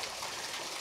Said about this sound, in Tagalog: Mini falls na galing sa Bukal.